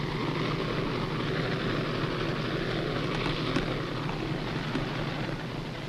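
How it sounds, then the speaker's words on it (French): Engines of the submarine Casabianca run with a continuous loud, dense droning roar, steady and unbroken throughout with no voices. "Toujours ces moteurs. On a la tête qui pète."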